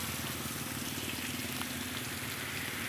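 Water leaking from a damaged pipe and running out steadily: a constant, even rushing hiss at moderate level with no voices.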